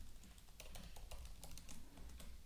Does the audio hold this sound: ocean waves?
no